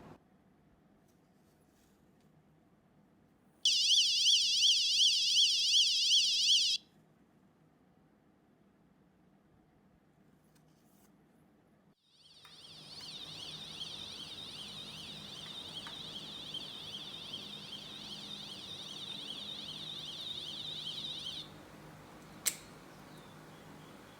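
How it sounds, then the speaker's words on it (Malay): A prototype helmet-strap alarm emits a loud, steady high-pitched electronic beeping tone for about three seconds. A longer, softer buzzing tone follows over a faint background hiss. "Alat penggera yang kami cipta ini akan terus berbunyi jika pengguna tidak memasang tali topi keledar"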